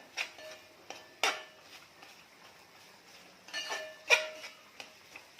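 A spatula stirs Kolhapuri onion garlic chutney in a pan for a dried bombil dish, giving sparse, soft scrapes and a few sharper metallic clinks against a quiet background.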